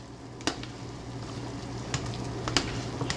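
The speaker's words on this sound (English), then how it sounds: "so I think we got her to a boil here" Pot of meat boiling on a stove, a soft continuous bubbling simmer with a low steady hum and a few light clinks or pops, faint and close.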